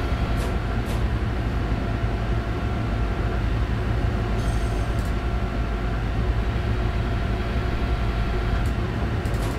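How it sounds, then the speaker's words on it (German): An airport express train hauled by a BR 103 locomotive rumbles along in the Train Sim World 4 game near Dresden, a steady loud rolling drone with faint high squeals. "Da fahren wir mit unserem Flughafen-Express auf dem Weg zum Dresdner Hauptbahnhof"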